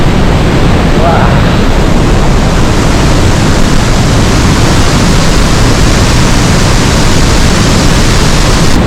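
The Pailón del Diablo waterfall in Baños, Ecuador roars close by as a loud, constant broadband rush that fills the whole stretch without a break.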